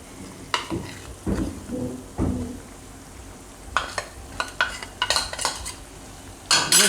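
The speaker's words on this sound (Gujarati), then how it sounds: "અને હલાવતું જવાનું લઈને જે રીતે ખીચું હલાવીએ એ રીતે" A spoon stirs a mixed vegetable khichu in a pot, with intermittent scraping strokes and clinks of metal against the pot over a faint bubbling background, sometimes in quick bursts, with no speech.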